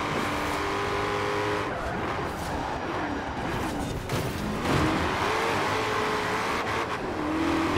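A car engine revs hard at full throttle in second gear in Forza Horizon 4, rising and shifting in pitch with tire noise and passing sounds, fairly quiet overall.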